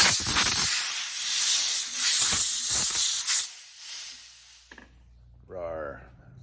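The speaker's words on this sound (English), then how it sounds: "I got a big steam machine, and then I got a little, call it a steam dragon." A small handheld steam cleaner hisses at a jewelry bench during silver and turquoise bezel repair work. A loud, steady burst of hissing steam lasts several seconds and then cuts off, followed by quieter clicks and a short tonal sound.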